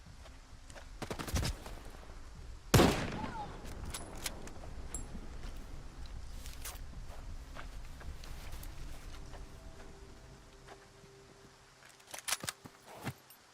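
A 9x39 revolver fires in a video game, one sharp loud shot near the three-second mark followed by a ringing tail, with a few fainter clicks and a short burst of smaller sounds toward the end.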